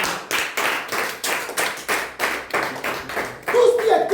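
A church congregation bursts into rhythmic applause, claps arriving in strong repeated waves about twice a second, loud and close, with a voice briefly rising near the end.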